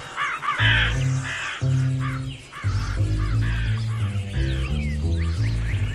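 Crows caw in the video game Ant Inventor, a run of loud, harsh repeated calls in quick bursts over a low, steady game soundtrack.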